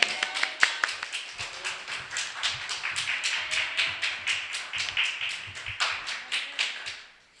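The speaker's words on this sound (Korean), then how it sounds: "여러분 박수로 환영하겠습니다" A small church congregation at a weekday service claps in welcome, a lively run of sharp, irregular handclaps close by that tapers off at the end.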